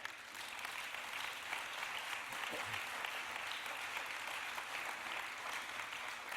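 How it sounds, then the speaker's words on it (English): A church congregation claps steadily, a dense even wash of many hands that holds at a constant moderate level for several seconds with no voices over it. "Yes, you ought to clap on that, yes."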